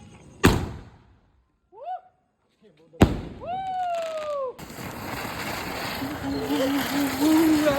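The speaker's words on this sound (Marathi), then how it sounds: "पूजा झाल्यानंतरून टाईम होता फटाके फोडण्याचा." Diwali firecrackers go off after Laxmi puja: two sharp, close bangs a few seconds apart, followed by crackling noise, with people's voices heard between and after the bursts.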